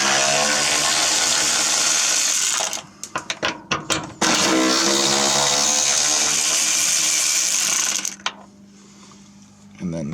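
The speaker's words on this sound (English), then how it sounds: "having one of these electric ratchet wrenches, it sure makes a difference." An electric ratchet wrench spinning bolts off a Subaru, a loud, continuous buzzing whir broken by a few short stuttering bursts in the middle, then a lower hum at the end.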